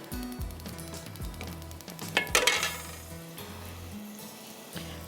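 Onions frying in a pan on a stove, a steady close sizzle with scattered clinks and scraping of a utensil against the pan, briefly louder midway.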